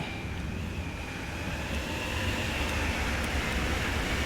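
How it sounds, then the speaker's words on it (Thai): An electric train passes by on a German mountain route in the game Train Sim World, a steady rumbling rush with a faint high whine, loud and sustained. "อ้าวรถไฟฟ้าผ่านพอดี ไม่ทันสังเกตนะครับ"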